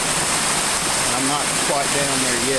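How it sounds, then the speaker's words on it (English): Floodwater still rushing through in the aftermath of a flood, a broad continuous roar of flowing water that fills the background while someone talks over it. "We still have a lot of water coming through."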